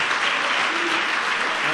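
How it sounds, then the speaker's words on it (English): Dense, loud applause fills a room at a White House student film festival, a continuous wash of many hands clapping at once with no pauses. "So give Adobe a big round of applause."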